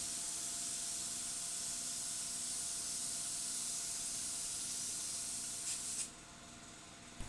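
A spray gun hisses continuously as it lays primer paint onto a boat, a loud, close, steady broadband spray lasting about six seconds before cutting off abruptly into quieter background.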